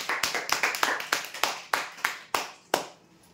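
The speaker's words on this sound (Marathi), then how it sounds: "जोरदार टाळ्या होत्या यांच्यासाठी" Sparse applause greets a prize winner at a customer lucky draw, about ten close, distinct claps that thin out and fade near the end.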